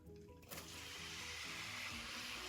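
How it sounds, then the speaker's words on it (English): A steady hiss of diced onion frying in hot melted butter in a pan starts abruptly and continues close by, alone without talk. "Yeah, you hear that sizzle?"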